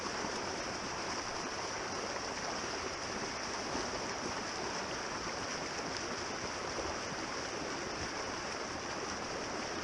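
Small trout creek in northwest Wisconsin flowing steadily, a dense broadband rush of running water that stays even and close throughout, with no voices.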